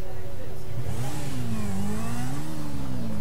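Car engine revving and accelerating during a GTA 5 chase, a steady mid-pitched drone with rising and falling pitch, loud and continuous, with some voice layered over it.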